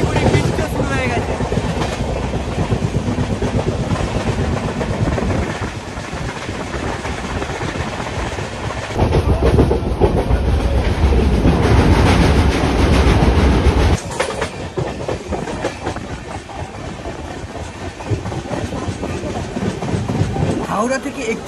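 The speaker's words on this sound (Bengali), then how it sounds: "ভালো স্পিডে কিন্তু ট্রেন চলছে" A passenger train on the Howrah to Digha line runs at speed in light rain, its loud, continuous rumble and rhythmic wheel clatter heard from on board, with occasional voices.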